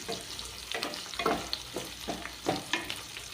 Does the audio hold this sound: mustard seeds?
yes